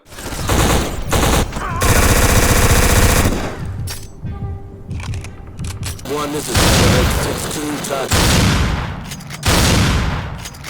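Bursts of rapid weapon gunfire with heavy booms and explosions from the console shooter Black on PS2 and Xbox, loud and near, alternating automatic fire with blasts and brief quieter gaps.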